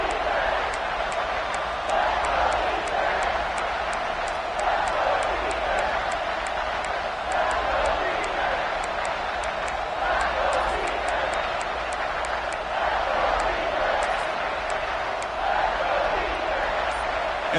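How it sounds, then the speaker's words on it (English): A big crowd at a college football stadium roars steadily near the goal line, a dense sustained wash of cheering and shouting that holds throughout at a loud, even level. "this big crowd doing everything possible to inspire this defense down here near the goal line"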